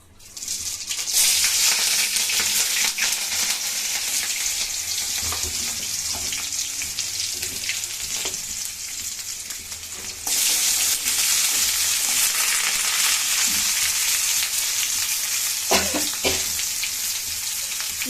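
Five-spice tempering in hot oil for a drumstick and potato chochchori, a loud hissing sizzle that jumps louder about midway when more goes in, with scattered stirring knocks and no speech.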